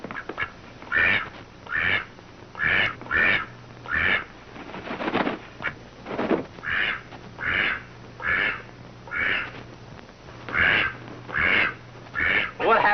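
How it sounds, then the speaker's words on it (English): A duck quacks repeatedly in a steady run of loud, close calls, roughly one every half second to second, over a soft hum in an old mystery film, with no one talking. "What happens to the duck?"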